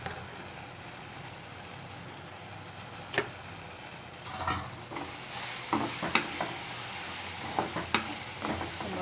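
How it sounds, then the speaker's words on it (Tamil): Tomatoes sauté in a pan for sundakai kulambu, giving a faint, steady sizzle broken by scattered clicks and scrapes of stirring. "தக்காளி எல்லாமே நல்லா வதங்கிடுச்சு"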